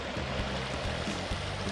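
Creek water flowing beside a woodland trail, a soft, steady rushing hiss that stays even and fairly faint throughout, with no voices.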